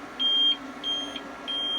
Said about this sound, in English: It's got 1 light left, still beeping.